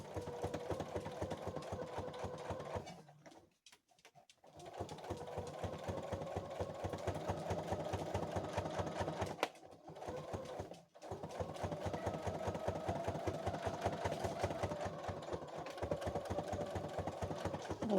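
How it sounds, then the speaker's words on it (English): A sewing machine runs steadily as it back stitches and stitches forward over a mended fabric pocket, a close, continuous mechanical whir broken by two short pauses and a brief stop near the middle. "Let's go ahead and back stitch that one"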